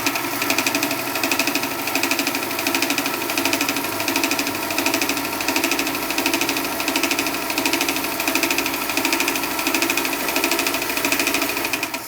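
An old, noisy home sewing machine in need of service runs steadily for the whole stretch, a fast even mechanical clatter with a regular pulsing rhythm, close and fairly loud, with no voices.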